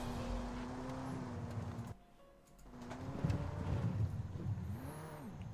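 A drift car's 4.5-liter V8 revs hard during qualifying at Englishtown, dropping away briefly and then surging back, loud over a steady crowd and ambient roar.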